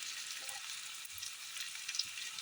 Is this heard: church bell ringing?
no